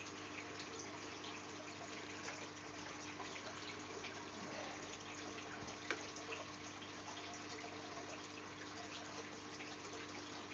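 Water pours steadily to top up the Bonsai Falls aquarium, a constant soft rushing trickle with faint splashing, even and low in level from start to end.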